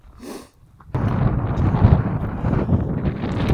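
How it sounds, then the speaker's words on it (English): Strong wind buffets the microphone on a mountain summit, a brief gust followed by a loud, steady roaring rush that continues unbroken to the end. "Fine wind blowing again this time on the mountain."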